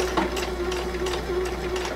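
A sewing machine stitches a French seam on a fabric pouch, running close and steady with a continuous whirring hum and rapid needle rhythm for the whole stretch.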